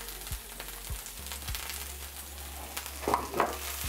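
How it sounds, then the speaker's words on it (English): Garlic and green onions sizzle steadily in a hot pan for spicy garlic noodles, with a constant close frying hiss and a few soft stirring knocks near the end. "we're gonna go ahead and throw in the garlic and the green onions"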